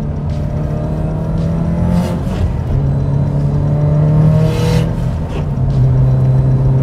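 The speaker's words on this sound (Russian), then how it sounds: "самая основная фишка этой машины – то, как она разгоняется" Subaru Impreza WRX STI Spec-C (GRB) accelerating hard, its engine revving loud and close with rising pitch through gear changes, a steady turbocharged roar throughout without talk.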